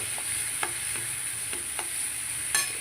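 Rice and pav bhaji masala are stirred on a hot tawa for pulao, with a steady sizzle of frying underneath and several soft scraping clicks of the spoon against the pan, close by and with no talking.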